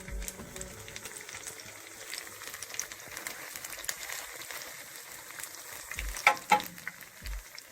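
Jamaican saltfish fritters fry in a pan with a soft, steady crackle and sputter, faint and close, broken near the end by a few dull knocks.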